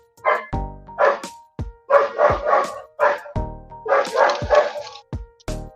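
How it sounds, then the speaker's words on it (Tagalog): Neighborhood dogs bark loudly and repeatedly in short clustered bursts, with sharp yaps and brief gaps between volleys, close by and with no voices over them. "Ang ingay ng aso dito sa amin sa kapitbahay."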